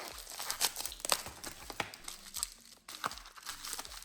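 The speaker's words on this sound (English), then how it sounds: "A packet inside a packet. Let's cut this up." A plastic packet inside another packet being cut open and unwrapped, close-up crinkling and crumpling with sharp tearing snips and rustles throughout, no voices.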